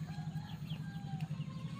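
A young Pakhoy chicken clucks and chatters softly over a constant low hum, with a few short cackling notes close by.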